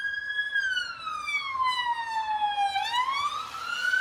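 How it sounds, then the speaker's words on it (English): A police car siren on a quiet street in South Blackpool, wailing loud and close with a long falling sweep then a rising one, alone without talk. "It's a police car."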